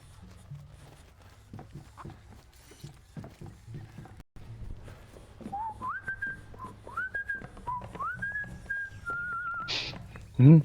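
Someone whistles a short, rising tune in clear repeated phrases over a backdrop of clattering and mechanical noises, ending with a loud thump.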